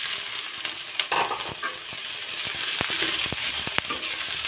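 Garlic and onion frying in a little oil, crackling in an even sizzle while a spatula scrapes and taps the pan in short irregular strokes nearby.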